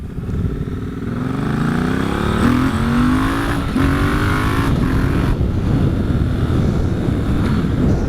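A 2018 Triumph Bonneville T120 motorcycle engine revs and pulls hard through the gears, its rising pitch climbing, dropping at each shift and climbing again, loud and steady with no talk.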